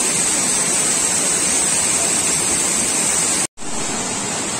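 Kallare waterfall near Sirsi roars as a loud, steady broadband rush close by, with a brief dropout near the end before the continuous pour resumes.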